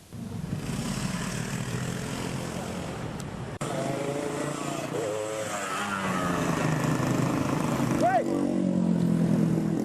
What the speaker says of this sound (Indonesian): sejumlah pengendara diduga anggota geng motor langsung kabur menerobos barikade polisi